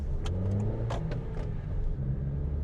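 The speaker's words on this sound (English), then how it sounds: "sometimes it jumps out of first gear into second gear, and then also it over revs a little bit as well" A 2025 Honda Amaze's car engine revs steadily while accelerating, with a continuous low rumble and a few brief higher bursts, heard up close from inside the cabin.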